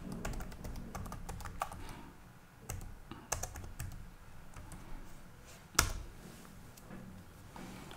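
Password being typed on a computer keyboard while logging into Windows Server running on KVM: irregular bursts of close, crisp key clicks with short pauses, one sharper loud keystroke near the end, no talking.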